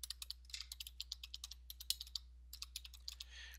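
Typing on a computer keyboard, a quick, uneven run of crisp key clicks with a brief pause midway, close and quiet over a low steady hum, no talking.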